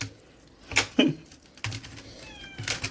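A cat gives a short meow amid faint clicks and light household noise in a quiet room, with no talk.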